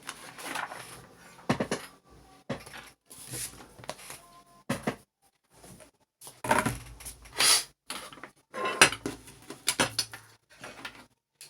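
Thermocol sheet being cut by hand gives scattered short scraping and crunching bursts between quiet pauses, close up and irregular in rhythm.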